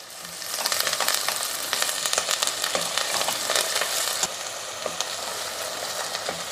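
Tomato and coriander sizzle in hot oil tempering for veg kurma, a continuous close crackle broken by scraping stirs, with no talk over it.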